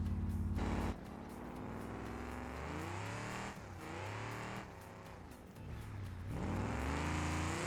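A race truck in BeamNG Drive revs and rolls along, its engine climbing and dropping through several gear shifts, loud and steady with no talk over it.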